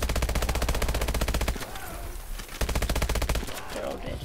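Rapid automatic gunfire from the video game Call of Duty: Advanced Warfare, loud sustained bursts with a short pause in the middle and lighter background combat noise between them.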